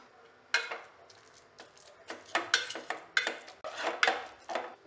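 Boiled sweet filling for poli mashed in a metal pot, giving a run of irregular clanking and scraping knocks at close range, with no talking.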